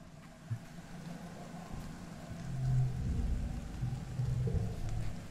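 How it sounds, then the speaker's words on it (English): Pouring rain falls steadily in a video game, a soft continuous hiss of rainfall with low rumbling beneath it, quiet and unbroken with no voices. "It's pouring rain and everyone's trying to stay dry under the grass-roofed halapus."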